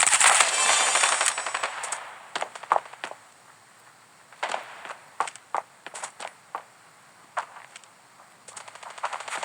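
Machine gun fire in a shooting video game: a dense burst at the start, then sharp separate shots and short bursts scattered through the rest, fairly close and loud with quieter gaps between.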